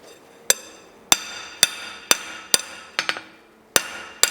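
A blacksmith's hammer rings sharply on hot metal at an anvil, about eight close, bright strikes at a steady pace, with one quick double bounce near the end.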